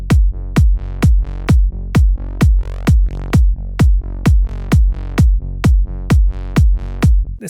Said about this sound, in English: Let's make this fatter, get a bit distortion.